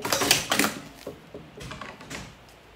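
A sewing machine stitches bias binding onto a baby diaper and wipes holder kit: a few short, close mechanical clattering bursts, stronger at first, then fainter and sparser.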